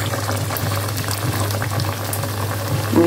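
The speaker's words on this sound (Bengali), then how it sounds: "যে তেলটাতে আমি বেরেস্তা করেছি সেই তেলে এখন ভেজে নিব।" Egg-coated kebabs bubble and fry in oil previously used for crisp fried onions. A steady, close bubbling hiss continues evenly, with a low hum beneath.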